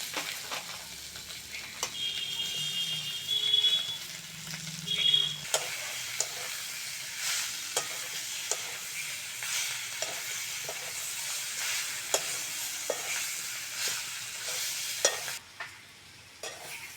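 Fried teasel gourd and potato pieces being stirred in a pan of fried spices, with a soft continuous sizzle broken by repeated light scrapes and taps of the spatula, going quiet at the very end.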